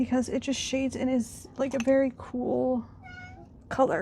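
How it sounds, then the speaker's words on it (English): Short meow sound from a cat notification on a device, heard briefly between stretches of a woman's speech. "If you heard that, that's my cat notification."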